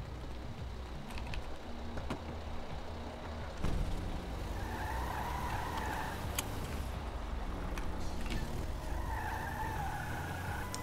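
A battered old car drives in a video game with a steady engine drone, brief tire skids and squeals rising in two drawn-out passes, plus a few sharp clicks, fairly quiet overall.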